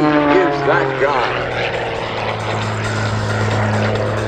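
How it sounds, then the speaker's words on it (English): An aerobatic propeller plane performs at the Geneseo air show, its engine droning loudly and steadily with a rising and falling pitch as it maneuvers. "And then the airplane slides sideways through the air."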